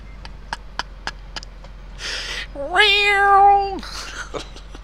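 A cat lets out one long, drawn-out meow that rises and then holds, preceded by a few sharp taps and short rustles, heard close and alone.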